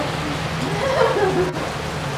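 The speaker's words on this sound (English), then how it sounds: "it's raining out" Rain falls outside as a steady, fairly loud hiss of drops on surfaces, continuous for a couple of seconds with a brief dip near the end and no clear talking.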